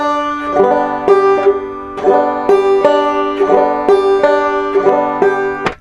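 Banjo strummed alone on a hilltop in a steady basic frailing pattern, bright plucked notes and brushed chords repeating in an even bouncing rhythm.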